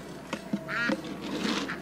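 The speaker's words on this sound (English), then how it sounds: "there's a duck over here on the nest" A duck sitting on its nest on a farm gives a short, nearby quack, with a few soft thumps and a brief voice around it.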